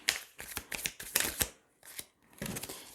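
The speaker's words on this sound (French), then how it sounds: "Allez, on va tirer 9 cartes." Tarot cards are drawn and shuffled in quick bursts of papery flicks and slides, close and crisp, with short pauses between handfuls and no talk.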